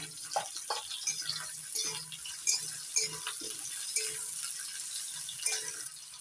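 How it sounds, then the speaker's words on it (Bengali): Potatoes frying with onions in a pan and being stirred, a soft steady sizzle broken by scattered scrapes and clatters of the spatula, close and moderately quiet. "আলুটা একটু ভেজে নেব।"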